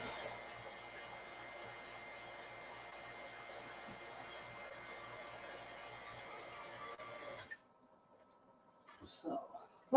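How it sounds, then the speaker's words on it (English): A vacuum runs in a woodturning workshop with a steady whirring hum for about seven seconds, then cuts off, followed by brief shuffling and handling noises. "we got our vacuum."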